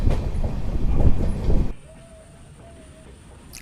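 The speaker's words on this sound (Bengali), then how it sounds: "আমাদের প্ল্যাটফর্মে ট্রেন দিয়ে দিয়েছে কাঞ্চনজঙ্ঘা এক্সপ্রেস।" The Kanchenjunga Express rolls along the rails with a loud, rumbling clatter that suddenly drops to a quieter hum, followed by a couple of thin, drawn-out wheel squeals.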